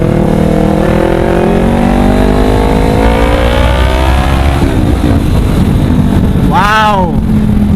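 A Honda CBR500R motorcycle engine revs hard on a test ride, its loud, close drone climbing steadily in pitch through acceleration before a brief sharp rising whine near the end.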